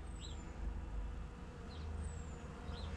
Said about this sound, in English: there's a couple of bees in there